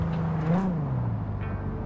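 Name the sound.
car engine revving in video game Cyberpunk 2077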